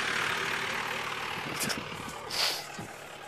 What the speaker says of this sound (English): Except for the sound of engines.